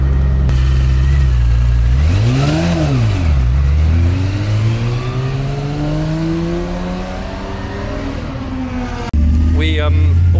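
A race car driven hard through the corners at the Silverstone circuit: a loud, close engine note rising and falling as it revs, lifts and accelerates again, with a sharp burst of revs at the very end.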